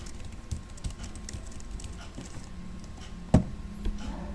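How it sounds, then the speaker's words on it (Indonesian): Typing on a computer keyboard gives faint, scattered key clicks at close range, with one sharper, louder keystroke near the end over a low background hum. "coba kita ketik playboy.com"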